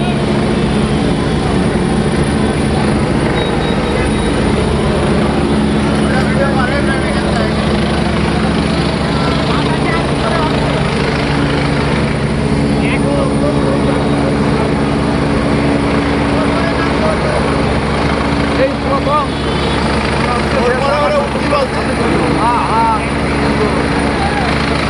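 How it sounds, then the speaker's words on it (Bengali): A Bangladesh Air Force rescue helicopter drones loudly and continuously overhead during a rescue at a burning hotel, its steady rotor and engine roar filling the scene while voices talk faintly underneath. "রিস্কিউ করে হেলিকপ্টার, বাংলাদেশ বিমান বাহিনীর হেলিকপ্টার এখন একজন মানুষকে উদ্ধার করছে।"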